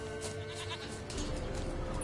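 A goat bleats in a video game side quest, the hoofed, horned animal giving a steady, drawn-out cry over a continuous ambient game backdrop with no talking.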